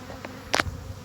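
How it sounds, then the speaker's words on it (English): Saskatraz honey bees at their hive, a brief close buzz of a single bee flying past over a faint background hum. "Saskatraz bees looking good."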